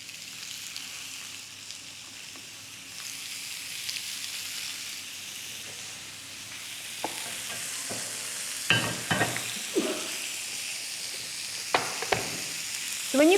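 Beef burger patties frying in bacon grease in a pan: a steady close sizzle and hiss, with a few sharper crackles and utensil scrapes toward the end, no talking.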